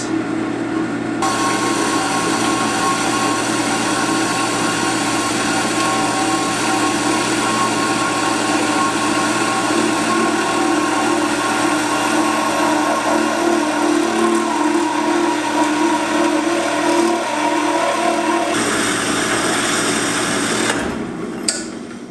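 A power tool cuts stainless steel right beside a weld on a Mustang project, a loud, steady high-pitched whine and grinding drone held close for about twenty seconds before it cuts off and winds down.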